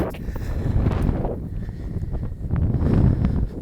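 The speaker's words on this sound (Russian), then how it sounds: "Ух, ветер дует, задувает." Strong wind buffets the microphone outdoors, producing rough, low rumbling gusts that rise and fall, growing heavier toward the end.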